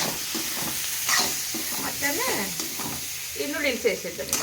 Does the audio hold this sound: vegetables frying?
yes